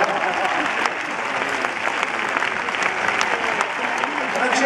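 A large concert audience at the Arena di Verona applauds steadily, dense clapping filling the open-air venue at full strength throughout, with no voices rising above it.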